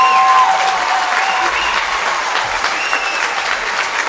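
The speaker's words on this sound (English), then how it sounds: "Let's give both of these teams a round of applause." A crowd claps steadily for two softball teams at a state championship game, a sustained burst of applause with a few whistles and cheers over it.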